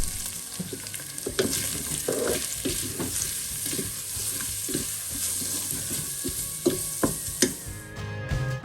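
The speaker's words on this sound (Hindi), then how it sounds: "इसमें चिकन डाल दूंगी। और चिकन डालने के बाद इसको अच्छी तरह जो है ना वो भून लूँगी" Chicken frying in a pan for a chicken vegetable pasta, with a steady broadband sizzle and repeated clacks of a spoon stirring and scraping the pan throughout, close and fairly loud, with no talking.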